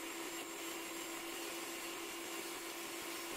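An old vacuum cleaner runs steadily in a workshop, drawing away grinding dust, with a constant loud whine and hiss throughout and no break.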